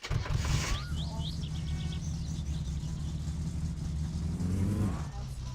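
A car engine in My Summer Car drones steadily at a low pitch, then winds down and cuts out as it stalls near the end, with faint chirps overhead.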